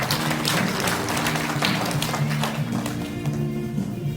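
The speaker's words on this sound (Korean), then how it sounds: "큰 박수 부탁드립니다" Audience applause at a public debate on development profit recovery, steady clapping from a seated crowd throughout with a low hum underneath.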